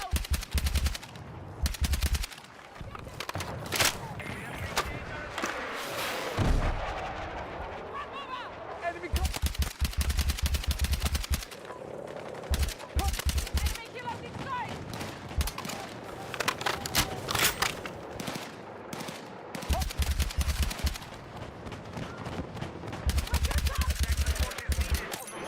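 Sustained machine gun fire in Battlefield 6, long rapid bursts broken by short pauses across the whole stretch, loud and close, with a voice talking now and then beneath the shooting.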